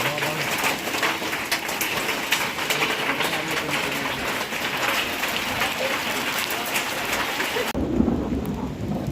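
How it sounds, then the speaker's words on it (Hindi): Heavy rain and rumbling thunder sweep over a mountain trek to Madmaheshwar Temple in Uttarakhand, with steady loud rainfall and rolling thunder throughout before the sound drops abruptly near the end. "बादल गरजने की आवाज़ आपको आ रही होगी और मे बी बारिश की भी आवाज़ आ रही होगी"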